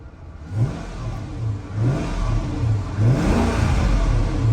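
Used police car at an auction yard with high mileage, engine running with the air conditioning on, a low steady idle rising into several rhythmic revs, close and fairly loud.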